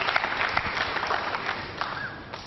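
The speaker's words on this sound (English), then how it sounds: "they're applauding Reyes" Audience at a 2000 World 9-Ball Championship pool match applauding player Reyes, a dense burst of clapping from a crowd that holds steady for a couple of seconds before starting to thin out.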